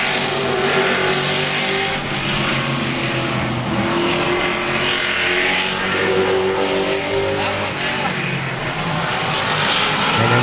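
Loud race car engine at a New England racing practice session, a continuous roaring drone with rising and falling revs heard up close and steady throughout, with no voices over it.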